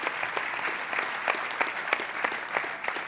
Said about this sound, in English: give a huge round of applause for Dave